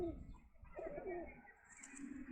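Pigeons coo softly and repeatedly in their new coop, low rounded calls rising and falling over a steady background murmur, with a faint higher chirp toward the end.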